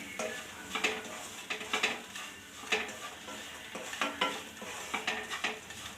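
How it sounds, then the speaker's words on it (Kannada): Semolina roasting in ghee in a pan over a low flame, a soft steady sizzle broken by repeated scraping strokes of a spoon stirring, close and fairly loud with no talk. "3/4 ಲೋಟ ರವೆ ಇಟ್ಟಿರೋದನ್ನ ಹಾಕ್ಕೊಳ್ತಾ ಇದ್ದೀನಿ. ಸ್ಲೋ ಮಾಡ್ಕೊಳ್ಳಿ ಫ್ಲೇಮು. ಚೆನ್ನಾಗಿ ಹುರಿಬೇಕು."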